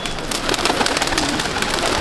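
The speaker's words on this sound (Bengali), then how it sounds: "এই পায়রা ছেড়ে দেওয়া হলো 1 2 3 4 করে বেরিয়ে যাচ্ছে" Pigeons are released together for a pigeon-flying match in Kolkata, with a flurry of wing flaps and soft bird sounds close by over a dense, busy background.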